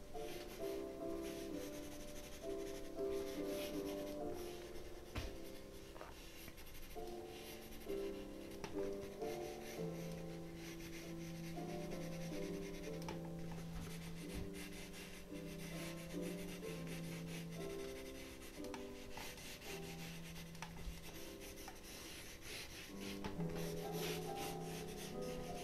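Pencil drawing on paper with eyes closed, a soft continuous scratching and rubbing of graphite in short strokes, close and quiet, without any talking.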